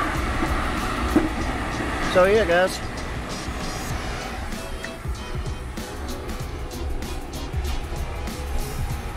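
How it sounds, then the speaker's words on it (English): A train passes on a nearby track beside a yard where carpets were pressure washed, a loud steady rumble with a brief squeal early on, while someone talks over it. "Sorry for the background noise. We're close to a train track."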